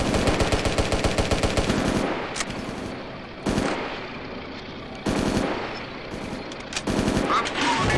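Machine gun fire rattles from a BT-5 Mod. 39 tank in the combat game Steel Fury, loud and close, with a long rapid burst followed by several shorter bursts broken by sharp gaps.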